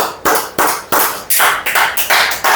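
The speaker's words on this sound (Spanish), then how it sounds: "Denle un aplauso al Señor." A church congregation claps in a loud, even rhythm, about eight sharp claps in quick succession with no talking.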